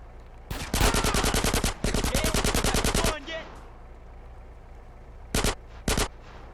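Automatic gunfire in GTA San Andreas Definitive Edition: two long, rapid, loud bursts back to back, then a quieter pause and two short sharp bursts near the end.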